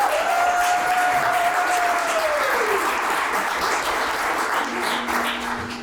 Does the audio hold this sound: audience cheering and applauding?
yes